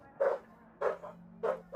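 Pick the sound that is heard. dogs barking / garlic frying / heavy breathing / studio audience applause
dogs barking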